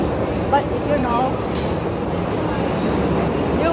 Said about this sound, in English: Another train just goes